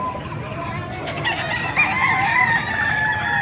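A 10-month-old Melsim Black rooster crows once nearby, a clear rising and falling call over faint background noise and a low voice.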